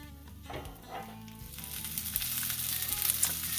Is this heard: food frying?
yes